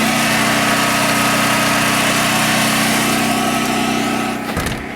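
A Predator 7000W generator runs steadily, heard from inside a house as a constant loud engine drone with a low hum, dropping off abruptly near the end.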